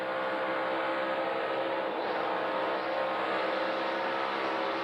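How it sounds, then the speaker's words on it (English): NASCAR Cup Series stock cars at Kansas in the 2024 AdventHealth 400 roar down the front straightaway five wide on a stage restart, a steady, loud engine drone with no letup. "now they're 5 wide going down the front straightaway."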